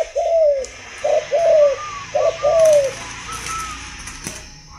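A moulting spotted dove coos close by in a rhythmic series of soft, hooting phrases, with fainter answering coos and light background noise, no speech.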